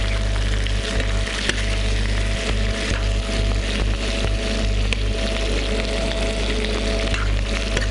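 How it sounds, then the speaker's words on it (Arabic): Sausage sautés in a hot pan in Egyptian home cooking, with a continuous crackling sizzle that stays close and fairly loud for the whole stretch, and no one speaking. "هندي للسجق كده تشويحة"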